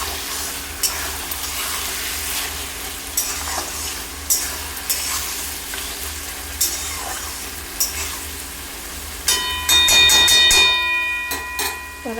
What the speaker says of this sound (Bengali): চিনিটা দিয়ে একটু নাড়াচাড়া করে নেব।